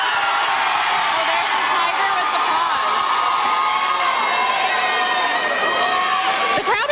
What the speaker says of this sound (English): The crowd, they're cheering a little bit louder for the sophomores.